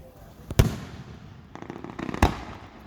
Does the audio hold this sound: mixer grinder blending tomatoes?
no